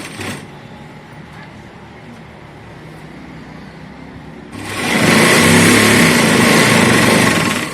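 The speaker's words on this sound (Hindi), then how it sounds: "उस तरह से ही हम इसको एक बार सीधा सील लेंगे।" A sewing machine runs a straight seam on suit fabric, starting after a quiet stretch and then whirring loudly and steadily at close range until the end.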